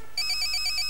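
A phone plays a bright, high electronic ringtone that pulses rapidly and evenly. It is loud and close, with no talking over it.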